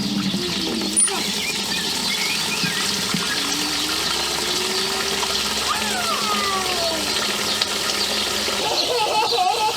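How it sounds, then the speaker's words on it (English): Water runs steadily into a chicken water bucket, a continuous close splashing fill with some faint chicken sounds in the background. "Now we just need to fill it up with water"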